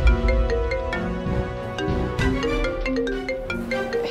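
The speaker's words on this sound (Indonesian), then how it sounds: "Tiara mau angkat telepon dulu dari Mpok Atun" A phone ringtone for an incoming call plays a bright, repeating melodic pattern at steady volume, close and alone with no talk.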